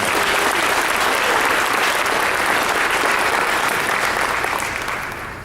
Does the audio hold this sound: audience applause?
yes